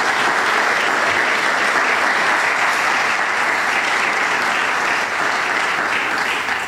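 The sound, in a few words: audience applause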